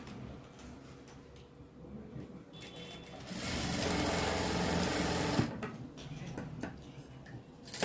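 A sewing machine stitches a frock seam, running softly at first, then surging into a loud, fast whir for about two seconds before dropping back to lighter, intermittent clattering near the machine.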